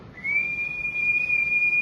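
Someone whistles to call a dog: one steady, sustained high note that rises briefly at the start, then holds level for well over a second against a quiet background.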